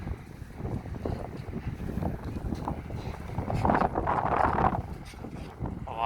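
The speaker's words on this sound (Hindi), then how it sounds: "हवा काफ़ी तेज़ है" Strong wind beside the Rhine river in an old German town buffets the microphone in rough, rumbling gusts, swelling louder midway before easing slightly, with a faint boat or water presence behind it.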